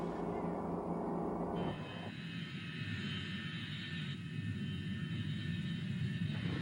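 Airplane engine rumble heard from inside the cabin, a steady low droning hum with a change in tone partway through, moderately quiet and continuous.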